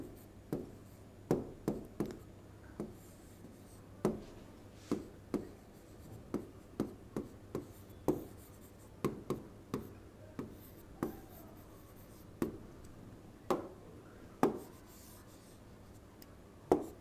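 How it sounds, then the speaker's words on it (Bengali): A pen writing on paper during an Arabic grammar lesson, a long run of close, dry scratching strokes with frequent sharp taps as the pen lifts and lands, steady and quiet with no talking. "এখানে লিখে দিই,"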